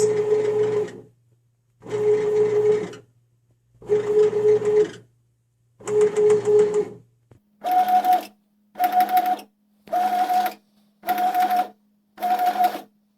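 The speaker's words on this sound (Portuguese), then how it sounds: "agora a máquina vai bater por 10 minutos" A home bread machine kneads dough in even cycles, each motor run lasting about a second with brief pauses between. The whir shifts partway to a higher, tighter hum with a steady low drone underneath, and no talk is heard.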